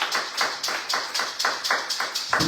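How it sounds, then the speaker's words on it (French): A church congregation claps in a steady rhythmic beat, repeated hand strikes every quarter second or so, moderately loud and close, with no talking. "Acclamons pour la parole du Seigneur."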